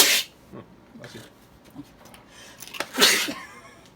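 A sneeze provoked by sawdust in a workshop during a Thor costume build, a close, breathy burst near the end after a softer one at the start, with quiet breaths and rustling between.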